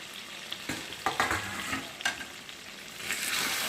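Loud, close frying sizzle of potatoes and tomatoes in a pan, with a few scraping stirs, the hiss swelling toward the end.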